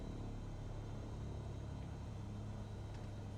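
Aircraft engine idling at 1000 RPM in Microsoft Flight Simulator 2020, a steady low droning rumble with a constant hum, even and unchanging throughout.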